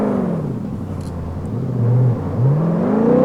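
A truck engine in BeamNG.drive, overheating and failing, roars at full throttle with loud, steady revving whose pitch climbs, dips and climbs again. No one talks over it.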